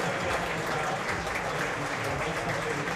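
Football fans in the stands at an FC Spartak Trnava versus ŠK Slovan Bratislava match applauding Slovak international Erik Sabo after his red card: a thick, continuous roll of crowd clapping throughout, with some voices in the mix.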